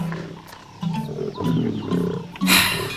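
Lions roar loudly and close at hand on an African safari, deep rumbling calls rising in two or three swelling bursts over about three seconds with no speech.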